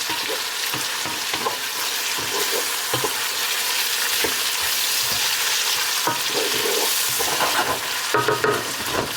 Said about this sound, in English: just get some color on the onion too